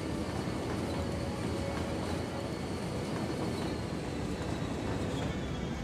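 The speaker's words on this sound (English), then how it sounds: "Cargo train, let's see, follow him down, let's see where he's going." Cargo freight train in the Cities: Skylines video game, a continuous rumbling roll of wheels on track with faint squeals, steady and fairly close throughout.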